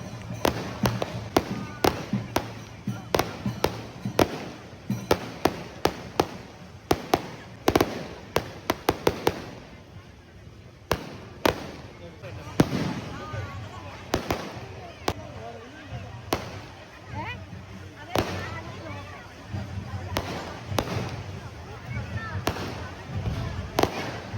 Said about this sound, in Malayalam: ഞങ്ങൾ ഇരിക്കുന്നതിൻ്റെ ഫ്രണ്ടിൽ തന്നെ ആയിരുന്നു ഈ പടക്കം വിടുന്നത്